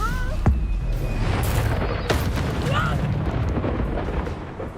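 Fiery Confringo spell blasts in a Hogwarts Legacy duel, a couple of sharp booms rising out of a dense, rumbling battle din with voices shouting over it.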